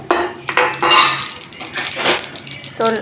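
White sesame seeds being dry-roasted without oil in a pan for a bottle gourd chutney: close, loud clattering scrapes and taps of a utensil against the pan, coming in irregular bursts.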